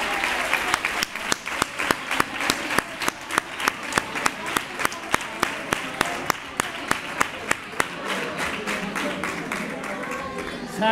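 A crowd at a Three Kings proclamation event in Nerva applauds, with a steady stream of sharp, rhythmic claps standing out near the front over the broad applause, which thins toward the end.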